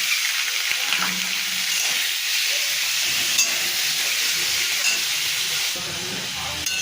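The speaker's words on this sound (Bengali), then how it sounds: "প্রথমে কড়াইয়ে তেল দিলাম, এবার চিংড়ি মাছগুলো দিয়ে দিচ্ছি।" Prawns frying in hot oil in a wok give off a steady, loud hiss and sizzle. It carries on throughout without a break, with faint kitchen clatter underneath.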